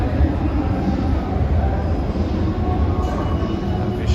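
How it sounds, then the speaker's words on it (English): A New York City 1 train at a Manhattan subway station, heard as a steady, loud low rumble of rolling cars that runs unbroken through the whole stretch, with no voices over it. "That's my train right there, one train."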